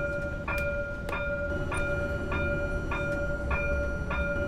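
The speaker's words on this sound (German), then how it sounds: "man hört in Wirklichkeit einfach diese Straßenbahn" A tram rolls along in the Bus Simulator 21 video game with a steady rumble and regular clacking about every half second, heard close and alone.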